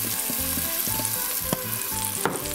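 Onion, garlic and peppers sizzle steadily in a pan at close range, a continuous frying hiss with faint clinks and stirring knocks scattered through it, with no voices.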